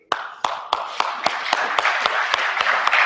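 Hand claps ring out in a steady rhythm, about ten sharp distinct claps over a few seconds, fairly close, like a small group of an audience at a tech conference keynote beginning to applaud together.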